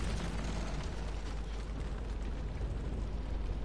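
Greek fire blast in Rise of the Tomb Raider: a loud, sustained, rumbling fiery roar with no gaps, dense from deep bass to hiss and holding steady for several seconds with no voices.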